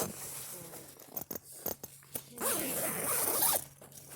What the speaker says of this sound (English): I figured out the zipper.